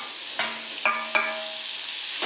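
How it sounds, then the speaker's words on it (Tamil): Tomatoes for brinjal chutney frying in a pan, a steady soft sizzle broken by three or four distinct scrapes of a spoon stirring them, close and alone with no talk. "தக்காளியை போட்டுட்டு நல்லா வதக்கிக்கணும்."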